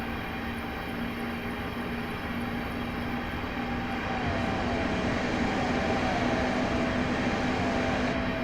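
A Class 465 electric multiple unit powers up in a train simulator, its steady motor drone and rolling rumble building gradually louder, with a rising whine emerging about halfway through, continuous and without any voices.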